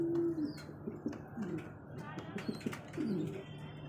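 Pigeons at a Bangladeshi pigeon seller's loft coo in repeated low, throaty phrases close by, several overlapping calls over a few seconds with faint background rustle.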